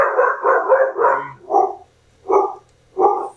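Dogs offered for sale at an auction bark in a quick run of four close barks, then three more spaced about a second apart, loud and near with nothing else underneath.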